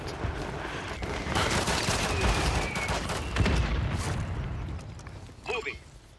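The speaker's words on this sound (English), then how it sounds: "The shooting, the sniping." Dense gunfire and sniper shots fill a Call of Duty Resurgence Quads match, a continuous loud crackle of rifle fire and impacts, with players' voices faintly under the shooting.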